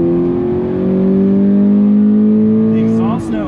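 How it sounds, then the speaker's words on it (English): A 2020 Subaru BRZ with the Limited Performance Pack accelerates under load, its exhaust note a loud, steady, rising drone from inside the cabin that eases off near the end. "The exhaust note is quite entertaining."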